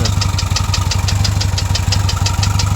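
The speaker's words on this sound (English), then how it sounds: "whatever that ticky noise is, I don't know. But it is bothersome." A 1977 VW Westfalia bus engine, running after new heads and Mahle pistons were fitted following overheating, idles with a steady low rumble and a fast, regular ticking clearly audible on top, loud and close.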